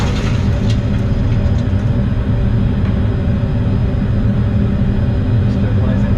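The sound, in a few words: Boeing 737 simulator engine sound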